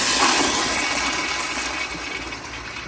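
A 1989 Crane Economiser pressure-assist toilet flushes with a loud, forceful rushing of water that starts hard and slowly tapers over nearly three seconds, close to the microphone with no talking.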